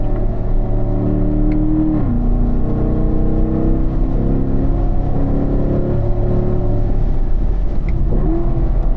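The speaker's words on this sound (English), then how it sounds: "Going on to start squeezing back on that throttle here down the straightaway." A race car engine rises steadily as the throttle is squeezed down the straightaway, a loud continuous close-up drone with a shift-like pitch dip near the start and another near the end.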